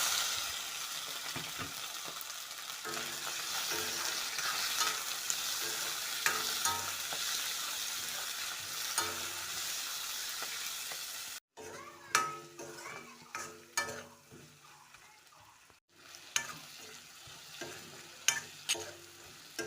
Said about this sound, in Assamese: মুৰ্গী মাংসৰে ভাজি আৰু বনাম।